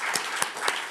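An audience claps at an event on AI, art and the Seneca creation story, a brief patter of hands forming a soft, steady applause with a few sharper claps standing out, heard from a distance.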